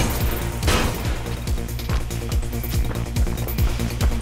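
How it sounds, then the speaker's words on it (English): Repeated gunfire in the first-person game Mirror's Edge, a steady run of sharp reports roughly every half second with a louder burst early on, over constant game ambience and music, with no voices. "I can hear gunshots"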